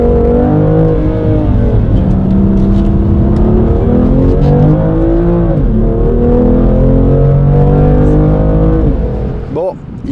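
A BMW M2 on the Fontenay-le-Comte race circuit, its engine revving hard and loud from inside the car, pitch climbing and dropping through gear changes for several seconds before easing off at the end.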